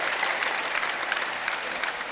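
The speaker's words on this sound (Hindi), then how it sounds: "जोरदार ताली बजा दो भाई" An audience gives steady, dense applause at a yoga gathering. The clapping is continuous and fairly close, with no break throughout.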